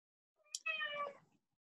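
A cat gives a single short meow, a brief rising cry with a strong tonal body, faint and isolated against silence, heard during a home Zoom math session.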